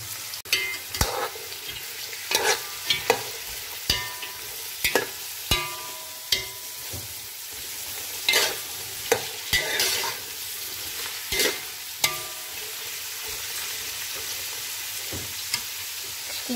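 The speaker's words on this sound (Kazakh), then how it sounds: "Майды ысыттық, оның үстіне сәбізді салып морковьті қуырамыз." Grated carrots frying in hot oil for zucchini caviar, a continuous sizzle broken by repeated sharp clicks and scrapes of a utensil stirring against the pan.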